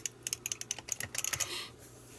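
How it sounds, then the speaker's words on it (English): Arcade joystick micro switches click quickly and sharply at close range, a cluster of small plastic snaps in uneven bursts as the stick is pushed around, with no other sound. "it's just getting 2 of the micro switches clicked on, and then 1 disengaging there."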